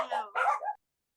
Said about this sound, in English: Since the dogs are barking